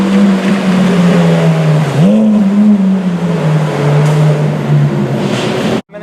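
A Ferrari F430 Challenge race car idles loudly on a public street, its steady low engine drone dipping and swelling briefly as the throttle is touched, then cutting off abruptly near the end.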